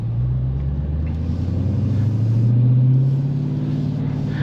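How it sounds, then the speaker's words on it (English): A 2023 Dodge Challenger WB Shakedown Edition with a 6.4L Hemi and six-speed manual drives along. Heard from inside through slightly open windows, its low, steady engine rumble swells gently as it pulls. "To have the windows open just a little bit here so you can hear the car."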